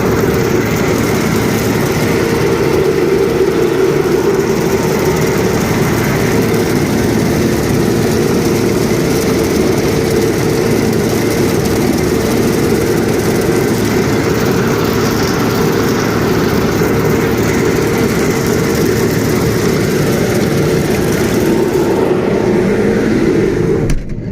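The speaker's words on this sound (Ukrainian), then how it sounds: "що ти, Саньок, скажеш насчет сої молотить зимою?" A combine harvester threshing soybeans in a winter field, its engine and threshing machinery droning loud, steady and close for the whole stretch with no talk, fading slightly right at the end.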